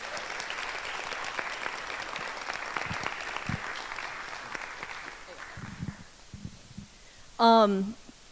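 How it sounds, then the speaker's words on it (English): Steady applause from a theatre audience after a play fills the first several seconds, then fades out, followed by a short, loud rising electronic tone near the end. "so a round of applause for the Asia board, please"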